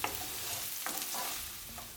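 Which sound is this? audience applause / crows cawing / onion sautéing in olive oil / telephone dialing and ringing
onion sautéing in olive oil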